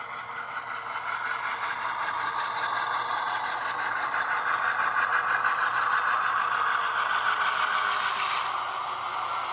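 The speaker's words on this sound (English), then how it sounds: "Oh, that brake squeal." A sound decoder in an HO scale Rapido GE B36-7 model diesel locomotive gives a sustained high brake squeal over a steady engine rumble, loud and continuous, with a higher tone appearing briefly near the end.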